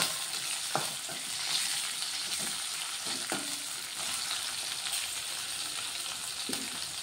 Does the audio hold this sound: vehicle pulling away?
no